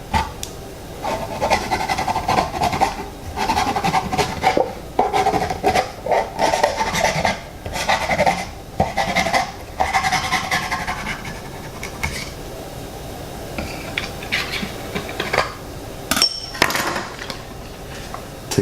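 A knife scrapes and rasps against a jar of coconut oil as it is opened, in repeated gritty strokes and rubbing bursts with brief knocks, close and fairly loud, with no talking.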